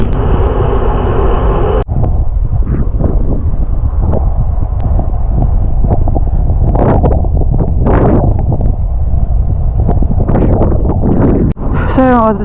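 Headwind buffets a cyclist on a rainy winter morning ride, a constant loud, low roar of wind rushing across the microphone with someone talking over it.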